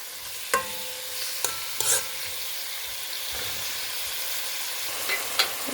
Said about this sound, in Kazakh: Осыны өте жақсылап қуырып алып